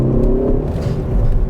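A Ford Focus ST engine accelerates hard, a loud, steady low rumble and drone with no talking over it.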